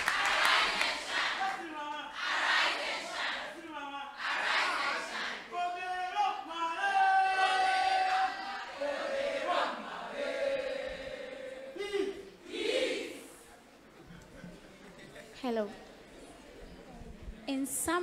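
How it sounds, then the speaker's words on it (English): A high school debate audience in Kumasi, Ghana, cheers and applauds a speaker with several loud surges of shouting and clapping, then the crowd noise fades as a voice starts speaking and carries on over scattered reactions. "A round of applause for her."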